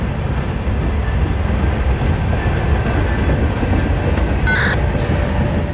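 A freight train rolls past at night beside a gas station, a steady loud rumble of wheels and cars close by, with a brief high squeal near the end.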